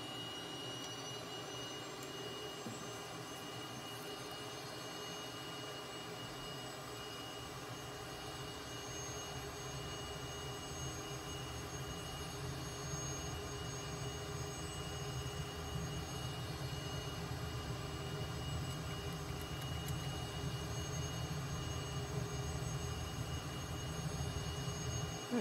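Simulated Cessna T-37B twin jet engines spool up to full power, a steady loud roar with a high turbine whine that grows slightly louder and fuller over the span, with no talking.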